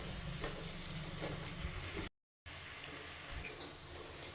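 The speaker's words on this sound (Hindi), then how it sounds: "तो प्याज हो रही है मेरी ब्राउन, इसमें मैं डाल दी थी हरी मिर्च" Onions and green chillies fry in hot oil until brown, a steady, close sizzle with a soft crackle that runs on without a break except for one short moment of silence partway through.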